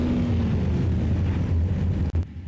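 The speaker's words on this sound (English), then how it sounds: "The engines sound mean." Super Late Model race car engines in the iRacing game rumble together in a steady, loud, dense drone, briefly cutting out near the end before resuming.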